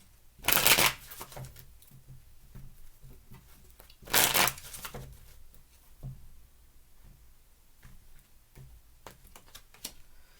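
Tarot cards are riffled close up in two brisk shuffling bursts a few seconds apart, followed by softer card handling and light tapping in a quiet room.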